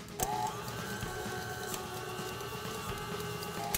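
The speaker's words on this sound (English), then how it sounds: "Now into a stand-up mixer, I'm gonna cream together our room temperature butter and our sugar" A stand mixer creams room-temperature butter and sugar in a steady, continuous whir with a faint mechanical drone and occasional brief clicks, close and alone with no talking.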